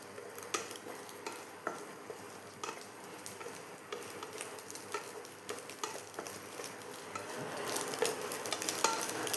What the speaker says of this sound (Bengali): এই দেখো বিনস আর ক্যাপসিকাম আর 2 কুচি টমেটো ভাজতে দিয়েছি